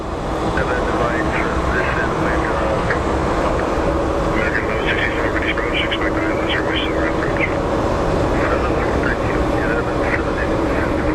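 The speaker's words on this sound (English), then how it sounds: "So watch as this plane comes through." A passing airliner at Phoenix Sky Harbor airport produces a loud, steady engine roar throughout. Wind and faint background chatter mix in.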